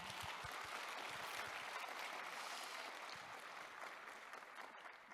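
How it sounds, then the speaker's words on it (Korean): Steady, even applause from a crowd at the opening ceremony of the 2022 World Korean Community Leaders Convention, heard at a distance and continuing throughout at a low level. "의원님께 다시 한번 큰 박수 부탁드립니다"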